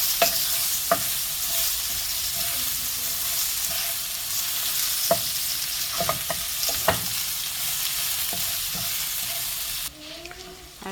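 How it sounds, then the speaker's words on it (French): Onions frying in a pan after meat has been cooked in it, a steady close sizzle with repeated scraping stirs and clacks throughout, no talking. "on va rajouter les oignons. On va les faire revenir. On va les déglacer."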